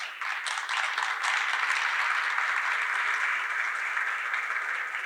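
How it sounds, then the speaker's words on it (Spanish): An audience at an international pork industry congress applauds to welcome a speaker, a dense, steady wash of many hands clapping, sustained and even throughout with no talking. "Recibámoslos con un fuerte aplauso."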